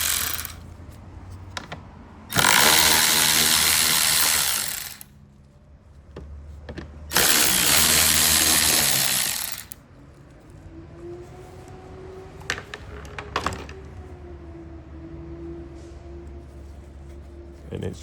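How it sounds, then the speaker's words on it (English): A 10mm cordless ratchet spins out fog light bolts on a 2019-2025 Nissan Altima, two loud whirring bursts of about two seconds each, followed by quieter clicks and light metallic handling. "I'm going to use my 10mm cordless ratchet with my 10mm socket, and I'm going to remove this bolt here"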